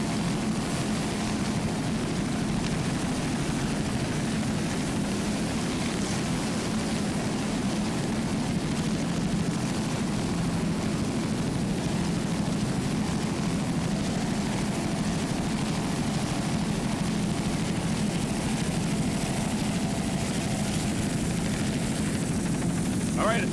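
A 29-foot Warlock offshore racing powerboat with one 500-horsepower Mercury inboard and Mercruiser drive roars continuously at a 1999 West Palm Beach race, a dense, constant engine drone filling the whole stretch.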